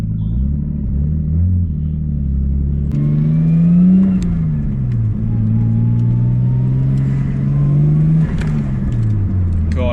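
Turbocharged RB25DET in an R32 Nissan Skyline revs hard, its engine note rising and falling across repeated blips, loud and close, with a whirring, fluttering edge between pulls and no gate.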